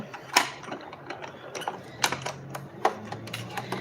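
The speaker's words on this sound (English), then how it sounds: "I'm just going to use the pressure of my cutting machine to evenly press that foil into the Easy Cut adhesive" Die cutting machine cranked to press foil onto adhesive sheet for Christmas cards, giving a steady mechanical whir with repeated clicking and ratcheting ticks, moderately close and without voices.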